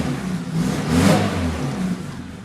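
A small Mini car engine with an exhaust leak runs steadily at close range, its throaty exhaust rising briefly in a rev before settling back to a rough idle.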